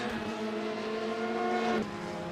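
Race car engine from a sim racing game at Watkins Glen, a steady high-revving drone that holds loud and near, then drops in pitch as the car shifts or lifts.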